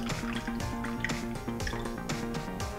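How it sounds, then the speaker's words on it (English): Vodka cocktail with fruit is poured evenly into two glasses, giving soft dripping and trickling liquid sounds close by over steady background music. "I'm gonna just evenly pour these out between these two glasses."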